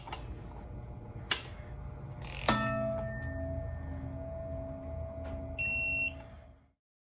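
A torque wrench beeps while engine bolts on a Gen IV L99 LS3 V8 rebuild are tightened, one clear sustained electronic beep near the end following some clicks and handling noises, fairly quiet overall.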